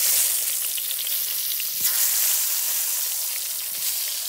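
Eggplant sizzles and fries steadily in hot oil with turmeric in a wok, a dense continuous crackle close by with no talking.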